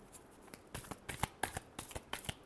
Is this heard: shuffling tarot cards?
yes